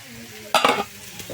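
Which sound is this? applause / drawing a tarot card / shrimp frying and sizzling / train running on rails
shrimp frying and sizzling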